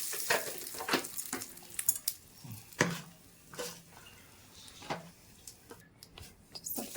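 A spoon stirs a hot mustard-seed and curry-leaf tempering into a peanut and brinjal chutney, making soft scattered scrapes, clicks and faint wet sizzles at close range.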